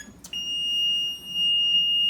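A Maytag Neptune washing machine control panel with a fault emits a continuous, piercing high-pitched electronic beep that sounds alone and loud, starting after a brief click and wavering slightly in level.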